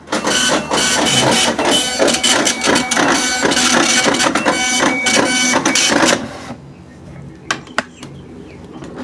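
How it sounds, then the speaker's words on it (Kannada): A weighbridge ticket printer runs loudly up close for about six seconds with a dense, rapid mechanical chatter, then stops, leaving a few faint clicks and knocks in a quiet room. "821 ಈಗಲ್ಲಿ ಪ್ರಿಂಟ್ ಬರ್ತದೆ ನೋಡಿರಿ."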